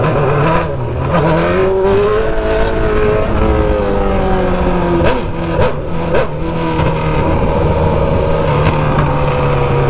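Many motorcycles roar past on a crowded road, with loud, overlapping engines revving and droning steadily close by, and no pause in the traffic.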